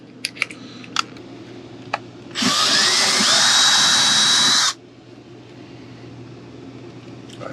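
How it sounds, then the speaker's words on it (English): A power drill boring a hole in the side of an under-bed storage fixture: a few scattered clicks and taps, then one steady high whine for about two seconds that rises slightly in pitch before stopping abruptly. "I'm going to drill a hole in the side of this thing"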